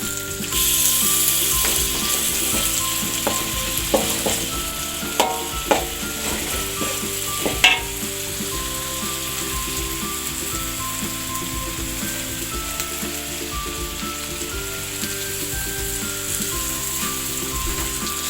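Semur spice paste sautés in hot oil for a beef stew, a continuous bright sizzle with scattered clinks and scrapes of a utensil against the pan, steady and close with no voices.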